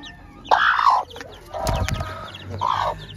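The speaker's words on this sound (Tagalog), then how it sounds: "So yan ang ating mga sisiw." Chickens clucking up close on a farm in Catanauan, Quezon, two loud cackling calls separated by a scuffling rustle, with softer bird sounds around them.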